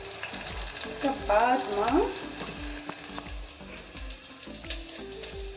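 Cumin seeds frying in hot oil in a pan, a close, lively sizzle with crackles and a brief stirring scrape, a single spoken word heard briefly.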